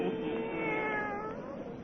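A black cat gives one drawn-out, wavering meow, close and clear, with the pitch sliding as it fades, and nothing else in the background.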